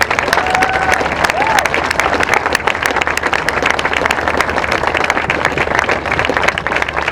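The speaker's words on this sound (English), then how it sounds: "everyone give them a round of applause, please" Crowd applause for volunteers at an Out of the Darkness community walk, steady and dense throughout, outdoors with clapping spread across a large gathering and faint cheering mixed in.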